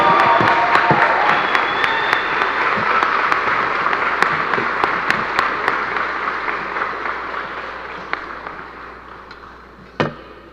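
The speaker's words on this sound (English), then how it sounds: "Can you please give a round of applause to this year's John Philip Sousa Award winner, Miss Emma Craig." Audience applause at a school spring choir and band concert, greeting an award winner: dense, sustained clapping from a full hall that slowly thins out over about ten seconds, with a few sharp claps standing out near the end.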